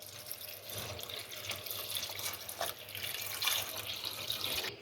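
Three glasses of water poured into a pot of keema for yakhni pulao, a steady splashing stream of liquid running close and fairly loud the whole time, with no voices.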